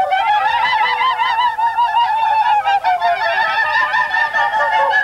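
A voice imitates the laughing call of a kookaburra, an Australian bush bird, in loud, close, rapid cackling hoots that warble up and down in a continuous rhythmic stream.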